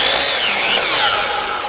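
A power saw rips through a 10-foot 2x4 board in a short, loud burst of high whining cut that tapers off as the blade finishes, no talking.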